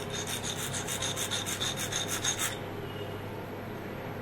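Blade of a broken blender being sharpened by hand in one direction, a quick series of rhythmic rasping strokes, close and fairly loud, stopping after about two and a half seconds.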